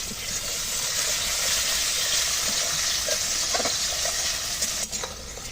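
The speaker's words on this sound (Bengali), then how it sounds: "কাঁঠালের বীজ দিয়ে আলু দিয়ে ভালো করে ভেজে নিলাম" Potatoes and jackfruit seeds fry in a pan with a steady, close sizzle and hiss that carries on throughout, broken by a few scraping stirs near the end.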